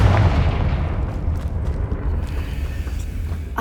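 A Confringo blasting spell exploding in Hogwarts Legacy, a loud deep rumbling boom that fills the start and slowly decays into a low rolling roar over a few seconds.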